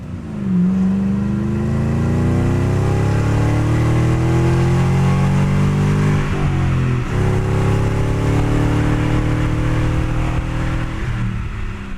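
A Ford Mustang GT with a 2.5-inch, 16-gauge stainless steel axle-back exhaust gives a loud, close, deep engine rumble that rises and falls as it revs, with no talk.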